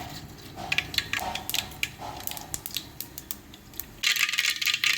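Mustard seeds dropped into hot oil crackle and pop in a quick scatter of sharp bursts, swelling into a dense, loud sizzle toward the end.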